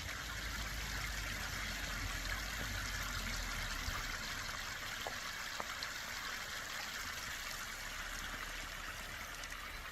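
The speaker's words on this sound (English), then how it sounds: "And there's some flowing water." Creek water flowing down out of Fletcher Canyon along the Acastus Trail in Nevada's Spring Mountains, a steady close rushing and trickling that runs evenly through the whole stretch with no voices.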